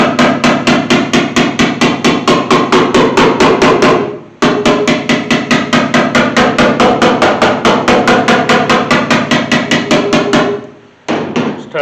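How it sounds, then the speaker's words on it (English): Rapid, even side-hammer taps on the sheet metal body of a 1981 Chevy C10 pickup ring out close and loud, a fast steady rhythm broken by two brief pauses. "I'm going to pull up on my side hammer"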